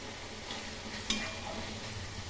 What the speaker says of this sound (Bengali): কড়াই তেল আর তেল গরম করে ওর মধ্যে শুকনো লঙ্কা কালো জিরে দিয়েছি, দিয়ে বড়ি ভেজে নিয়েছি।